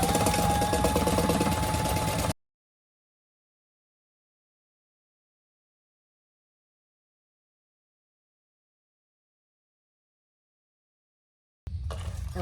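Sewing machine basting fabric pieces for a clutch bag, a brief steady mechanical whir for about two seconds, then sudden silence, with the machine returning briefly at the very end.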